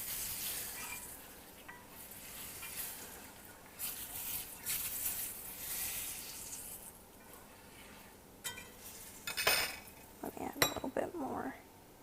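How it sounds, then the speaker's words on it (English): A spoon scrapes and clinks in a pan while a flour-and-fat roux for gravy sizzles gently, with soft patter building to sharper metallic knocks near the end. "we're just going to stir this up so it'll make a roux, which will be the thickening agent for our gravy"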